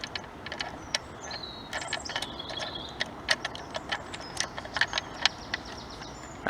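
A wing nut on the table clamp of a Knitpro wool winder is unscrewed, giving a close run of small, irregular ratcheting clicks and scraping ticks, with no one talking.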